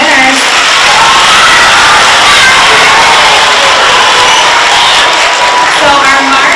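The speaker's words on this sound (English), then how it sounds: "Let's hear a round of applause for our March winners" A school assembly crowd of students cheers, whoops and applauds for monthly student award winners, a loud, dense wash of young voices and clapping sustained throughout without a break.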